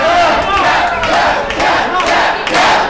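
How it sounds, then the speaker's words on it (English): A loud wrestling crowd at an IHWE event chants and roars for Riviera to tap out, a dense continuous wall of voices close in throughout. "The crowd was calling for Riviera to tap."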